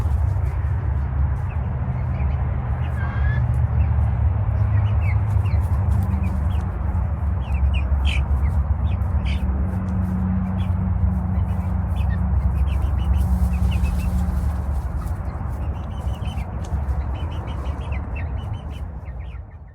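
A flock of eight-week-old chickens clucks and murmurs steadily nearby, a constant low chatter of soft calls over a continuous background hum, with occasional sharper peeps.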